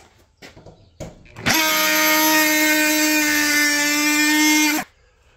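An oscillating multitool fitted with a Bosch carbide blade cuts into oak, a loud, steady buzzing whine with strong harmonics lasting about three seconds, preceded by a few light handling knocks and ending abruptly.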